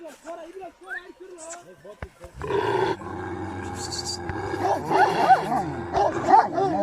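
A farm dog at a melon field barks and growls aggressively in repeated close, loud bursts, while people talk and laugh nearby.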